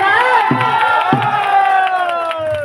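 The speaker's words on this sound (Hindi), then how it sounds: "एक बार जोरदार से बड़े ताली हो" A crowd claps and cheers at a Danda Nrutya folk performance, loud and close, with shouts and whoops riding over a sustained roar of applause and a few voices calling out.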